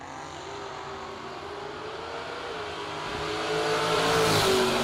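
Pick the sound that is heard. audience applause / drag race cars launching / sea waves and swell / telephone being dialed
drag race cars launching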